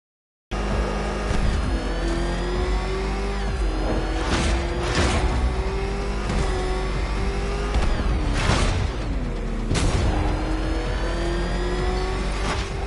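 The Batmobile's engine in Batman Arkham Knight revs loud and close, holding a steady roar that climbs in pitch with sharp surges and gear-shift drops, and no voices come through.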